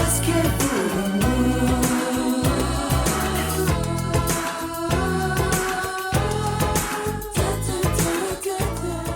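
A full-band rock song by a 1980s band plays loud and dense with steady drums, bass and layered instruments, continuous for about nine seconds with no talk over it.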